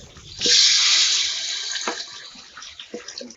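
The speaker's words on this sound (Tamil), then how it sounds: "புளி தண்ணி ஊத்திக்கலாம்" Tamarind water pours into a pot of anchovy fish curry, a loud close gush of liquid that fades into a few splashes and clinks.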